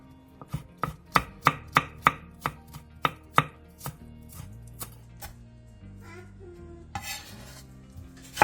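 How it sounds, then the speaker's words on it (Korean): A knife chops green onion into thin strips on a cutting board, with a quick run of sharp, evenly spaced cuts followed by softer handling and a brief clatter of kitchen utensils. "대파 2분의 1개를 5cm 정도 길이로 자른 뒤 채 썰어주세요."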